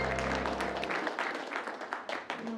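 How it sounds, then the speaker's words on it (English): Audience at an improv comedy show claps for the keyboard player, a thin, moderately quiet spatter of applause after a sustained low tone cuts off at the start. "give a big round of applause to Knute."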